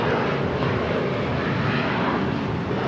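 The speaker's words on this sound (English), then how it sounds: "It's a 777 freighter now pushing back here on the south side." Boeing 777 freighter pushing back on the south side at LAX, its engines giving a loud, continuous broadband roar that stays close and steady without pause.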